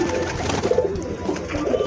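Pigeons coo softly while bathing in water outdoors, low repeated coos over a steady background of splashing and rustle, near and moderately loud.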